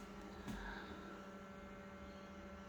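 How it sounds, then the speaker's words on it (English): A photocopier, apparently with a fan fault, gives off a quiet, steady electrical hum with faint tonal whine, continuous and unchanging throughout, with no talking. "this photocopier is making a really loud humming noise"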